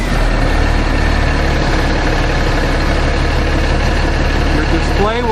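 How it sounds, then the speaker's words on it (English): A truck diesel engine idles loud and close, a steady low rumble that holds without change for the whole stretch. "We can then start the engine. We're going to be in the idle mode to start with."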